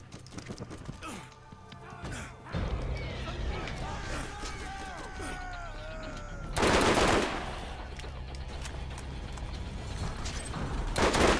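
Turret gunfire in the video game Borderlands, rapid bursts of automatic shots with a loud blast midway, mixed with clattering mechanisms and game effects under a steady background.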